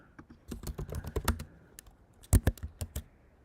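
Rapid typing on a computer keyboard while coding: a close, irregular run of crisp key clicks with short pauses and a few heavier keystrokes.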